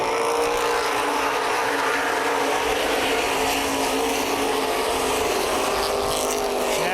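Open modified race cars roar around Columbus Motor Speedway in a loud, continuous wall of engine noise, with pitch sweeping slightly as the pack passes.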